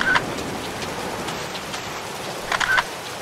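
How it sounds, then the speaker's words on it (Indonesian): Rain falls steadily in a graveyard scene of the horror video game DreadOut, a constant soft hiss of drops throughout, with a couple of brief chirping sounds near the start and end. "Oh bukan ya, oh bukan. Ini hujan."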